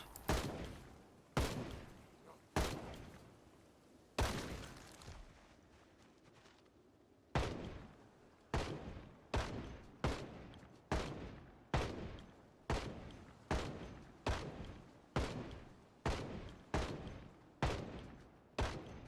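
Rifle fire in a modded zombie survival video game, a steady series of sharp, loud single shots in a regular rhythm after a few earlier bursts, with no talking.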